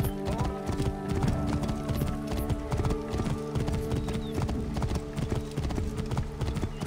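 A horse is ridden in the video game Assassin's Creed Origins, its hooves making a steady, continuous clip-clop at a brisk pace, close and clear, over a background of game ambience and music.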